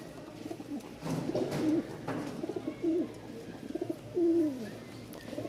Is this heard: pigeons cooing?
yes